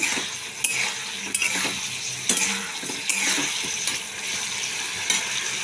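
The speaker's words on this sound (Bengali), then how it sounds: "টমেটোটা একটু গলিয়ে গলিয়ে দিচ্ছি।" Tomato is stirred and mashed in a hot pan; a bright sizzle runs throughout while a spoon scrapes and taps against the metal at a loose, repeated rhythm, close and clear.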